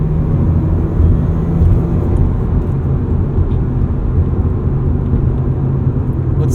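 A 2009 Mazda RX-8 with its rotary engine pulls steadily at low revs, around 3,500 RPM and 50 mph, a continuous deep engine rumble and road drone heard from inside the cabin, with no talking.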